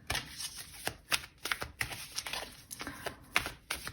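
A pile of tarot cards shuffled by hand for a card reading, steady close riffling and flicking with rhythmic bursts throughout, no voices.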